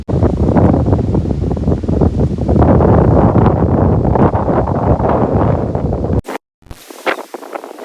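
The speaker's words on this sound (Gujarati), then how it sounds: "અત્યારે પવન ફૂલ ફૂંકાય જ છે" A strong gusting wind blasts across the microphone outdoors beside a farm plot during a sudden storm, a loud continuous roar that cuts off abruptly near the end, leaving brief quieter rustling.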